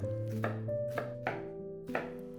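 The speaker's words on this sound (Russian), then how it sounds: "Пока бекон жарится, мелко нарежем лук." A knife chops through onion on a board in four evenly spaced crisp cuts, close and fairly quiet, with a low sizzling tone underneath from bacon frying in a pan.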